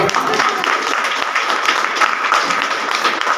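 A group of people claps together, dense and fairly loud applause lasting a few seconds with voices mixed in underneath.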